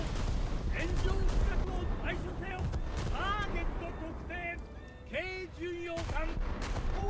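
Heavy battleship gunfire in a naval video game booms in repeated broadband blasts, layered over a continuous busy game soundscape with tonal effects and a steady low rumble.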